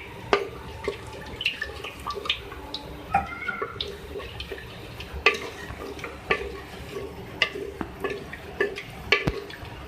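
Cinnamon, black and green cardamom and cloves lightly frying in oil, a soft crackle of scattered pops and sharp ticks of a utensil, irregular and close, with no talking.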